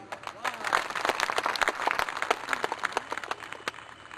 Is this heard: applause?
yes